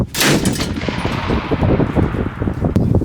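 Loud gunfire close by from a remotely operated weapon system firing single shots: sharp shots crack out over a rattling, echoing background.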